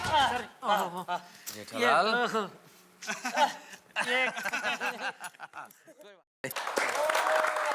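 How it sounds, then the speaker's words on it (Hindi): An audience clapping on a Taarak Mehta Ka Ooltah Chashmah comedy set, a burst of applause that comes in after a stretch of talking and a brief pause. "ताली बजाओ भाई ताली।"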